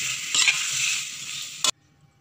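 Red chili being stirred into turmeric chicken fried rice in a hot pan, a dense close sizzle with a couple of scraping strokes that ends abruptly after a final loud scrape.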